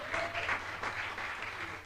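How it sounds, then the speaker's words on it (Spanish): Church congregation applauding during a Spanish-language sermon, a steady, moderately loud wash of clapping from a crowd indoors that carries evenly through the moment. "Si le dan un aplauso, déselo bien."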